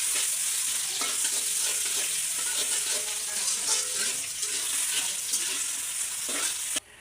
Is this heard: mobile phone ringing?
no